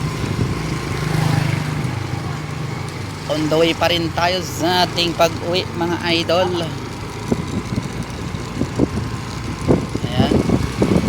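A motorcycle engine hums steadily while riding on a road, close and continuous, with someone talking over it through much of the ride.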